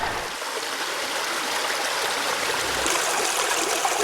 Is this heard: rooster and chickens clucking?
no